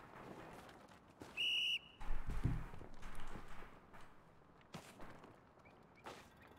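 A referee-style whistle gives one sharp, steady blast lasting about half a second during a game show on an island, followed by thumps, footsteps and low crowd noise in a quiet, distant setting.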